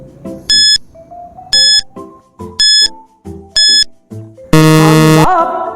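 Quiz countdown timer: four evenly spaced electronic beeps with ticking between them, ending in a long, loud buzzer tone, no voices.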